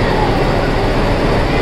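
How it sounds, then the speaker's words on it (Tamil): Ooty heritage steam engine toy train in the Nilgiris, a loud, close, continuous rumbling roar of the train running, with no voices. "நமக்கு ஊட்டியில் இந்த ஹெரிட்டேஜ் ட்ரெயின் இருக்குது"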